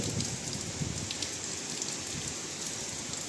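Heavy rain and wind from Cyclone Dana pour down in a dense, constant roar, with gusty rushing noise and no voices.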